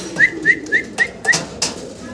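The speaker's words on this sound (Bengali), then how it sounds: "এখানে দুই পিস কবুতর আমরা দেখতে পারতেছি" Iranian pigeons call close by with five short, evenly spaced notes, followed by a couple of softer rustling sounds.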